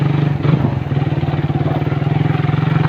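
Motorcycle engine labouring uphill on a rough, steep trail, a loud, close, pulsing throttle with rhythmic chugging and slight clatter, no talk.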